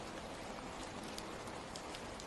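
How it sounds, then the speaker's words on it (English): Steady rain falling in a rainforest, a dense continuous hiss of drops pattering on leaves with no pauses, soft and even throughout, with no voices. "the rain that falls all around the forest"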